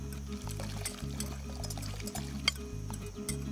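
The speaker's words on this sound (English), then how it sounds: "pour that directly onto your whisked up eggs and sugar" Hot, just-boiled vanilla cream poured from a pan onto whisked eggs and sugar: a steady liquid pour and trickle, fairly close, under background music with a rhythmic beat.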